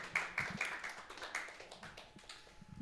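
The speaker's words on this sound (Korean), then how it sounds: "자, 다 같이 박수." A church youth group at a Sunday service claps to welcome a new student, with a few faint, scattered hand claps in an uneven rhythm in a quiet room.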